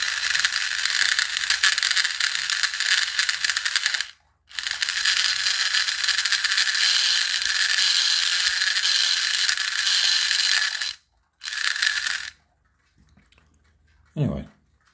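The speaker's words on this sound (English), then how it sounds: "when it gets to the stopper, that gear continues to turn, so that's the clutch" The steering gear clutch of a 2018 KS Toys Bat Hero Gold Blaster wire-controlled toy car slips against its stopper, giving a loud, continuous close-up ratcheting buzz that runs in long stretches, breaks briefly, then resumes with a short burst and a faint knock at the end.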